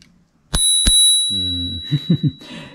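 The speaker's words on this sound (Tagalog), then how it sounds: "Tapos meron siyang bell." A bell on a used scooter is rung twice in quick succession, each bright ding leaving a sustained ringing tone, followed by a low hum and a few soft knocks.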